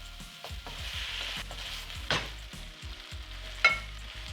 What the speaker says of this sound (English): Give everything a good stir here.